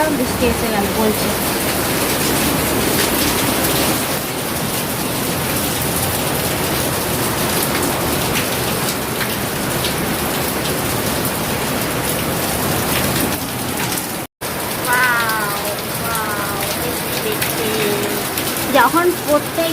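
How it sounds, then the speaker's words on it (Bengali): Heavy rain pours steadily outdoors, a dense, even roar of drops on surfaces that fills the whole stretch, with a voice faintly heard near the end. "বেরোতে যাবো ভাবলাম, বৃষ্টি এসে গেল বলছে।"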